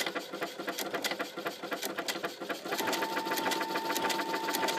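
A Brother NQ900 sewing machine runs steadily doing sideways stitching along the edge of a fabric rectangle. A fast mechanical needle rattle goes on throughout, becoming slightly louder and more even partway through as the stitching continues, up close with no talk.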